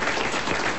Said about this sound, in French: quelques applaudissements